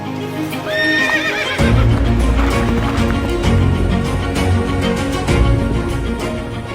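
Horses of the Indian President's Bodyguard cavalry neigh loudly up close, then hooves clatter in a busy, continuous clip-clop of several animals on hard ground.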